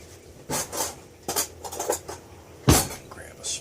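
Spoon and dishes clatter while someone cooks ranch dip on a stove: a few short, separate clinks and scrapes spread across the moment, close by and fairly loud, with a sharper clank near the end.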